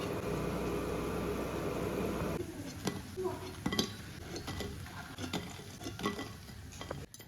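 A fork turns food in a frying pan: a dense frying hiss gives way to scattered metallic scrapes and clinks of the fork against the pan, close and moderately loud.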